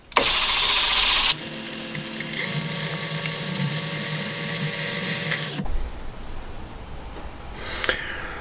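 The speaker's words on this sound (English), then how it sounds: "I'm just going to center drill it now." A lathe whirs steadily with a grinding, rubbing tone as it center drills metal, then cuts off, leaving a quieter workshop hum with a faint clink.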